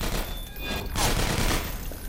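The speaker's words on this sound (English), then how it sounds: "Oh no, those are turrets." Automated ceiling turrets in the Half-Life 2 Episode One video game fire rapid bursts of gunfire, a dense crackling volley rising and falling over a couple of seconds.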